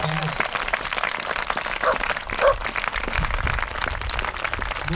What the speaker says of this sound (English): a big hand of applause for all the marshals who came up to meet us